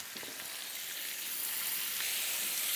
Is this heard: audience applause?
no